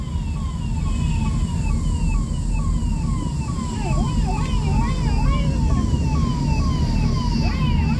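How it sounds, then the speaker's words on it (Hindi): An ambulance siren wails continuously in a fast, repeating sweep through heavy Meerut traffic, loud and fairly near, with road noise and voices around it. "मेरठ के अंदर इतना ट्रैफिक और ये एम्बुलेंस की हुई"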